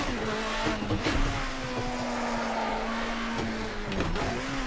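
A race car engine at Bathurst drones at a sustained, high pitch as the car is driven hard, with brief dips and shifts in tone at gear changes. It stays close and loud throughout.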